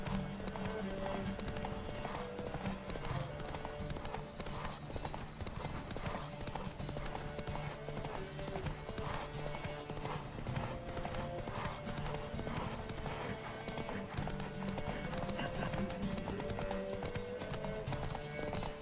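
A horse gallops in a race in The Witcher 3, steady rapid hoofbeats drumming continuously and close, with occasional whinnies over a busy layered background.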